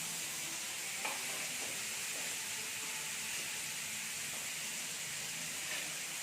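A soft, continuous sizzle of large crab pieces frying in oil, steady and fairly quiet, with a few faint clinks and stirring sounds.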